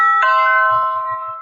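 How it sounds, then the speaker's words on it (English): A single electronic doorbell chime rings out clearly and loudly, one sustained tone that fades slowly over about a second with faint low thumps beneath. "seems like the doorbell just rang"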